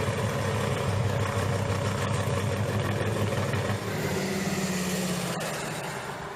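A street car engine idles at a steady low rumble throughout a Route 66 cruise, a continuous drone with slight wavering and no voices.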